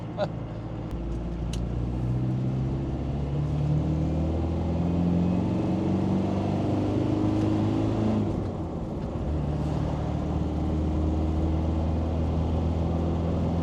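A Land Rover Defender 300 Tdi with a tuned fuel pump pulls up a big hill, its diesel engine a steady low drone under load with gear and road rumble, heard from inside the vehicle.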